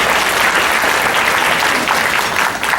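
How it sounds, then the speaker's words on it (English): An audience at an annual gala fundraising dinner claps loudly and steadily for community partners, a dense, sustained wash of applause with no break. "Please give a round of applause to our community partners."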